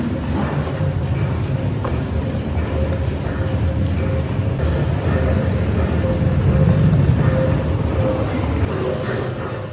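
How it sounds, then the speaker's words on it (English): Stone wheels of a traditional Moroccan olive oil mill grinding olives into thick black paste, a steady low rumbling churn with mechanical whirring that swells slightly near the end, continuous and close. "The stone wheels mill the olives into a thick black paste."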